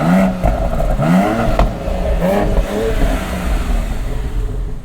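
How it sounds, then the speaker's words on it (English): A BMW X3 M Competition exhaust rumbles loud and close, with an uneven revving drone and burbling, crackling texture throughout and no talking. "Okay, now it's loud. Now you got burbles."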